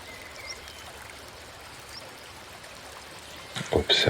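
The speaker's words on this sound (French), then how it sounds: "Écoutez les murmures, les chuchotements, les bourdonnements de l'eau qui cascade." A cascading stream in a natural setting gives a soft, steady trickling and murmuring wash, fairly faint, with a brief louder splash or disturbance near the end.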